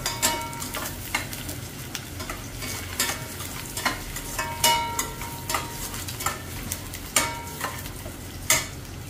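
Onions frying in a pan for a dal baati churma meal, with a steady close sizzle and a spatula stirring and scraping at regular intervals, a few light clinks of metal on the pan.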